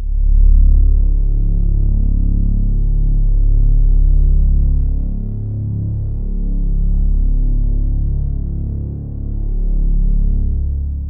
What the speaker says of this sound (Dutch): Het geluid wat je net hoorde is de ham.